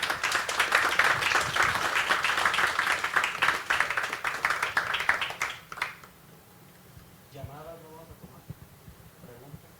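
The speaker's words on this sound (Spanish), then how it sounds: "un aplauso gigantesco" Audience applause for panel speakers at a social entrepreneurship financing event, dense clapping for about six seconds before fading out, followed by quieter room sound and a voice speaking briefly.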